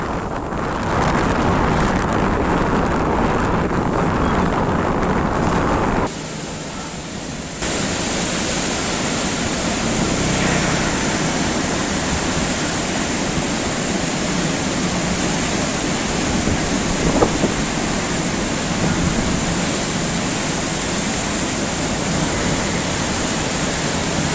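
Floodwater on the Krishna river pours through the raised gates of the Prakasam Barrage in a loud, unbroken roar, a constant broadband rush that briefly dips in level partway through, with no voices.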